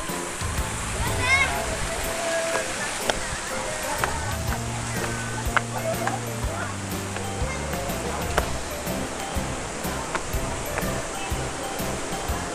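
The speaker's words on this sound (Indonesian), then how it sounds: "Tinggi juga air terjun tuh." A tall waterfall at Jembong, Ambengan, gives a steady broadband rush of falling water throughout, with people talking over it.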